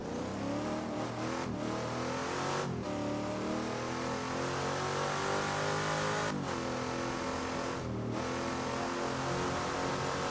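A Ford Mustang 289 with a 4.7-litre V8 accelerating hard on the Silverstone circuit, a loud continuous engine roar that climbs in pitch, dropping briefly at several gear changes.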